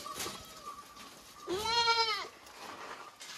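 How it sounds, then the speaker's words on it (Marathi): Osmanabadi goats and young kids, some about a month old and some fifteen days, bleat on a farm; one clear, loud, quavering bleat stands out in the middle, with fainter bleats before and after. "उस्मानाबादी शेळ्यांचे पिल्ले आहेत हे."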